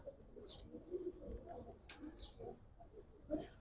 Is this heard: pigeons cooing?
yes